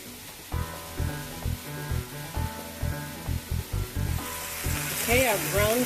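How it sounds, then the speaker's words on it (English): Steady sizzling and frying hiss from ground beef in a hot pan, with rhythmic low thumps of stirring or scraping throughout; no voices. "our ground beef is in the pan and it's sizzling away."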